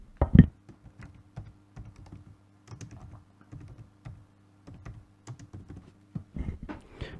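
Someone types on a computer keyboard, producing a steady stream of close, crisp key clicks in irregular short runs. A few louder strokes come at the start and near the end, and nobody speaks.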